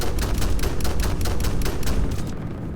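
Rapid autocannon fire from a sci-fi gunship in the Drone Sector video game, a loud, continuous rhythmic stream of heavy shots that tails off near the end.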